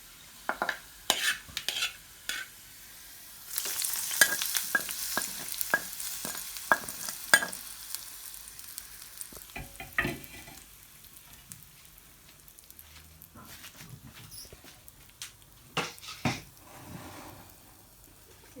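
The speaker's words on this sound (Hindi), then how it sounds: "और अब हम इसे अपनी दही फुल्कियों में डाल देते हैं" Hot tadka tempering poured over dahi phulkiyan, crackling and sizzling loudly for a few seconds, then settling into lighter stirring and scraping clinks, with no voices.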